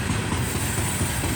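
A CSX coal train hauled by ET44AH and ES44 locomotives rolls past close by, a steady rumble with rhythmic clickety-clack of wheels over rail joints.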